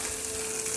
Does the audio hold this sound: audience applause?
no